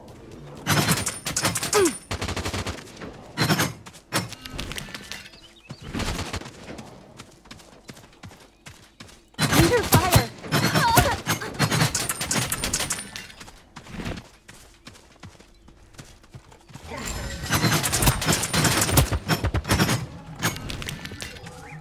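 Gunfire in the game Realm Royale comes in three dense bursts of rapid shots, separated by quieter stretches with faint footfalls and movement.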